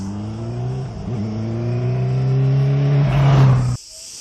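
A Yamaha YZF600 R6 sport motorcycle engine runs close by with a steady droning tone that rises as the throttle opens in one climbing rev, then cuts off sharply.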